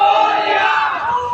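A large crowd at a dahi handi human-pyramid competition erupts in a loud, sustained chant and cheer as a Govinda troupe forms its fifth tier, a brief dense burst of many voices.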